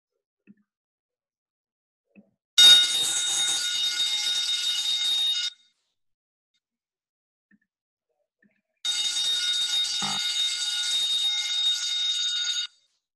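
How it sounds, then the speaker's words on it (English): Fire alarm ringing loudly in two long, harsh, continuous bursts of about three and four seconds, separated by silence. "This is a fire alarm."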